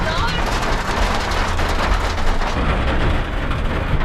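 Heavy rain and hail pounding down on a camp during a storm, a dense, loud, steady drumming patter with a faint low rumble beneath, while a voice talks through it.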